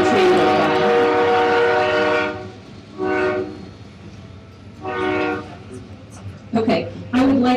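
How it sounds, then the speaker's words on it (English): A train passes near a town hall gathering in Carbondale, sounding long loud horn blasts, then shorter repeated blasts with rumbling wheels underneath, and brief voices near the end. "as the train goes by."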